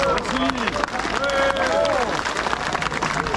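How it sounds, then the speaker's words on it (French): A crowd at a peace rally claps steadily in dense applause, with cheering voices and a person speaking over the noise. "On peut le saluer, l'applaudir."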